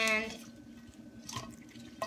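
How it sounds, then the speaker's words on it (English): Vegetables for ramen are rinsed in a sink, giving quiet splashes and drips of water with a few sloshes spaced out and a brief splash near the end. Faint kitchen background, no clear speech. "yeah, you wash it and now they're all washed"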